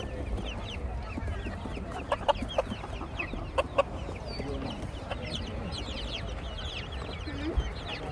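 Chickens, including a fuzzy Silkie, clucking at an outdoor animal swap where pigeons and ducklings are also for sale, a busy layer of soft clucks and chirps over steady crowd murmur and distant voices.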